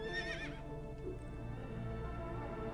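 A horse in the video game Assassin's Creed Origins gives a short, high whinny at the very start, then fades into a low, steady in-game ambient hum with no voices.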